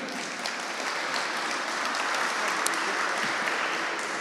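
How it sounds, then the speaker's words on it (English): A conference audience gives a quick round of applause for a data panel at a technology event, with a dense, even wash of many hands clapping that holds steady at moderate loudness throughout. "Another little quick round of applause for them"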